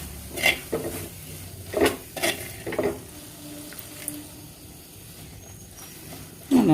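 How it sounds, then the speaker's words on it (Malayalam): Chopped tomato with masala is stirred in a pan for Kerala-style fish curry, giving soft steady sizzling broken by several scraping spoon strokes against the pan. "നന്നായിട്ട് എല്ലാം കൂടിയിട്ടൊന്ന് വഴറ്റി കൊടുക്കാം."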